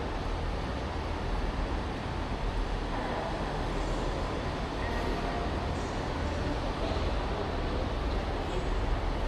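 An LNER train departs Newcastle station on the East Coast Main Line: a steady, heavy rumble with broadband rolling noise inside the carriage, continuous and even throughout with no talking.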